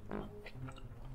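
Crunchy surf clam being chewed up close, a few soft crunching bites in quiet surroundings.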